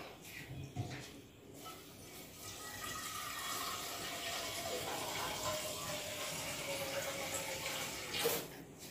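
Water is poured or run into a cooking pot for chicken tinola, a continuous rushing, splashing stream lasting several seconds with a few louder knocks at the start and a brief surge near the end.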